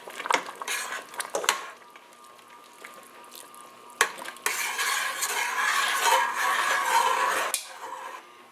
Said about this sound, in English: Stir that in nice.